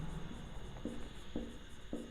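Chalk or marker writing on a classroom board during a geometry lesson, faint scratchy strokes repeating in short rhythmic bursts at a low level.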